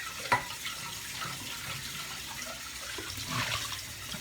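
Clean water poured for cooking coconut rice with black beans, a soft steady splashing stream running for a few seconds with a small knock near the start, close by and alone.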